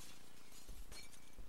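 Glass shatters in the video game Happy Wheels with a brief crash and tinkle of shards over a busy game soundtrack, moderately close and not very loud.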